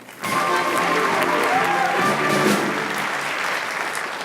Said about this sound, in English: a warm round of applause, if you will, for tonight's guest artiste